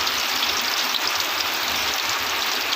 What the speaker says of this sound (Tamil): ஏன்னா மழை நிறைய பெய்யுது